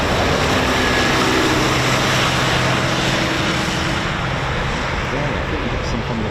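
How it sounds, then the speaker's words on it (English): Eurofighter Typhoon FGR4 jets taxi out for departure at RAF Coningsby, producing a steady, loud, broad engine roar that holds without break throughout. "So we've got more Typhoons just taxiing out now for departure."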